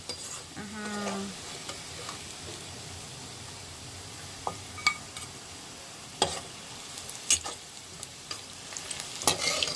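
Onions frying in a pan for a couple of minutes give a steady, close sizzle, with scattered clicks and scrapes of stirring and no talking.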